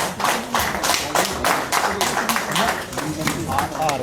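Applause from an audience welcoming a guest at a gathering with garlands, a steady patter of many hands clapping continuously, with voices talking over it.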